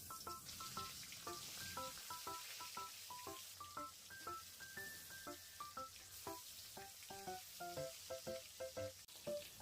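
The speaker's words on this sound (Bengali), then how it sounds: "তো রান্নার জন্য প্রথমে কড়াইয়ে পরিমাণ মতো তেল দিয়ে মাছগুলো ভেজে নেব।" Hilsa fish sizzles in hot oil in a wok, a steady close hiss of frying that runs through the whole stretch beneath a plucked melodic music track.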